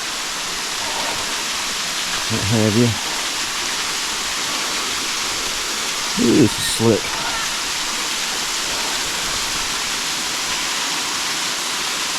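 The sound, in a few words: waterfall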